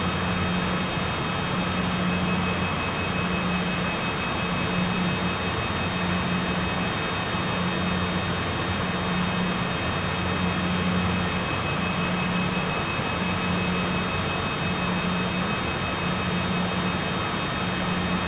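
A Cessna light aircraft taxiing in Microsoft Flight Simulator, its engine a steady, continuous drone with a pulsing low hum and a constant high whine, loud and unbroken throughout with no talking.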